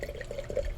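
Wine poured from a bottle into a glass, a brief steady trickling gurgle heard close and fairly quiet, with no one talking.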